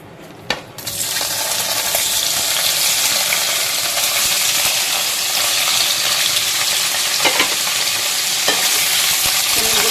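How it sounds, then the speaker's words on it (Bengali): Paneer pieces frying in hot oil in a pan for malai paneer, a loud, steady sizzle that runs throughout, with a clink of something dropping into the pan near the start. "পনিরগুলো হালকা করে ভাজতে হবে"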